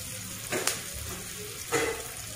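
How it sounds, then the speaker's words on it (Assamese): Turmeric hits hot oil in a pan while a fish curry is being cooked, giving a continuous close sizzle with two short louder surges as it is stirred; no talking. "তেলতে হালধি দিছোঁ।"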